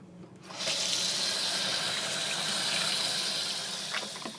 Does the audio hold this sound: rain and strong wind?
no